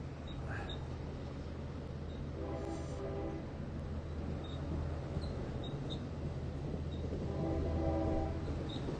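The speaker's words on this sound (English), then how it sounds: "So the train is pulling out." Steady low rumble of a Long Island Rail Road train with a DM30 AC locomotive pulling out of Mastic-Shirley station, with a faint horn tone sounding twice and light metallic squeals, continuous and moderately distant.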